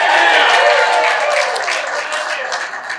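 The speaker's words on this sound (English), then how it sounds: "By a show of hands or a round of applause" Warm audience applause at a live debate event, a dense burst of clapping that starts loud and slowly thins out over a few seconds.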